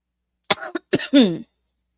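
A person coughs a few times close to the microphone, short harsh bursts ending in a throat-clearing rasp, then silence.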